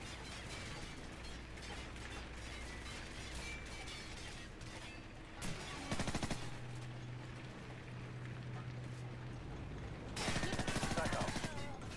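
Gunfire in Call of Duty Modern Warfare (2007), Crew Expendable mission aboard a ship, with sustained rattling shots under a steady engine-like drone and a couple of louder, sharper bursts, mixed with brief voices.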